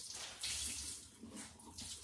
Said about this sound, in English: now that I just grabbed a wash rag and put warm water over it